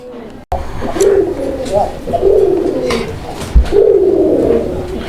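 Pigeons coo nearby in low, rolling bursts that repeat over a faint background murmur, with a sharp knock partway through.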